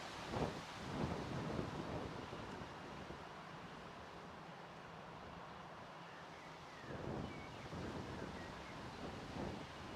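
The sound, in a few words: wind blowing at the airport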